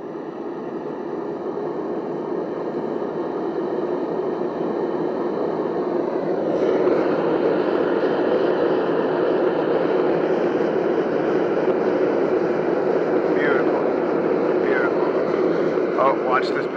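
A naturally aspirated ribbon burner fed through a venturi roars steadily as it is turned up, a dense continuous rush that grows slightly louder partway through and stays constant.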